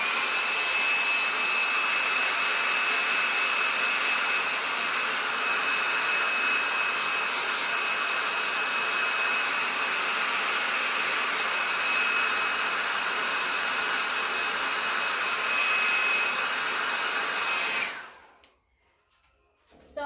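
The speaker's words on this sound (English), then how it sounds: "a hair dryer to this real quick. So it's going to get loud for a couple seconds here while I try to dry that image a little bit" A hair dryer blows steadily to dry paint on a tea towel, a loud, continuous whooshing hum with a faint whine that runs unbroken for about eighteen seconds, then cuts off abruptly into near silence.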